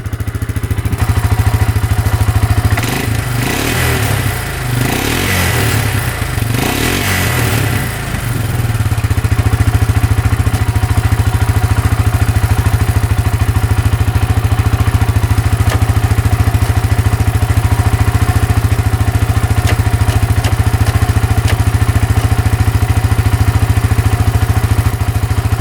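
An ATV engine idles steadily and loudly close by, with a brief burst of clattering mechanical noise early on before the even, continuous running resumes for the rest of the clip.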